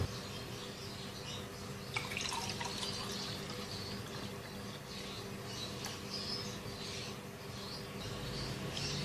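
Doodh sharbat, a Pakistani-style milk drink with rose syrup, pours into a glass with a soft continuous liquid trickle and light splashing, quiet and steady throughout with no talking.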